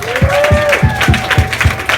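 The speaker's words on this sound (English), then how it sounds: "Can we all give them a big round of applause?" Audience applause at a youth summit hosted by a police department in Miami, loud and close clapping with a voice speaking over it and a whistle-like tone sliding through the start.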